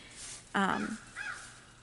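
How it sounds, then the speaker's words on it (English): An outdoor crow gives a loud, harsh caw followed by a second, shorter and fainter caw, both clear against quiet background hiss. "There's another crow. That's weird."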